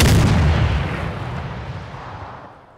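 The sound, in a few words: explosive charge detonating in ArmA 3 video game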